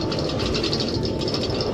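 A train ride in the Minecraft video game, heard as a steady rattling rumble with rhythmic clacking that runs evenly throughout, loud and close with no voices.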